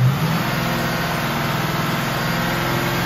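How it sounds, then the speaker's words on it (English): A 2007 Ford Mustang GT with a 4.6L V8 and 106k miles holds a steady raised idle under light throttle, a loud, even engine drone heard close up without speech. "Give it a little throttle. Give it a little throttle hold."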